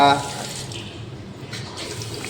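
Water runs and splashes steadily from a tap, close and moderately loud, after a brief tonal sound at the start.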